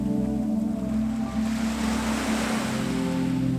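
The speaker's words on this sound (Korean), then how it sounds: "바다가 내는 소리도 좋았다." Continuous ocean surf roaring steadily on a beach at Deokjeokdo, Incheon, a broad wash of breaking waves with a low rumble and a steady tonal hum underneath, no voices.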